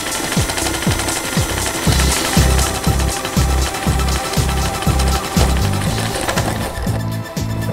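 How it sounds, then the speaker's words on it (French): A sewing machine stitches a handle for a bag, its needle hammering in a fast, steady mechanical rhythm with short pauses between bursts, loud and close, with no voices. "C'est la première fois où je touchais à une machine à coudre."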